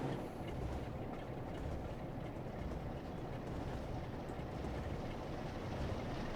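Steady low rumble of a train running in Train Sim World 3 on a London commuter line, a broad continuous roar held at even loudness throughout, with no voices.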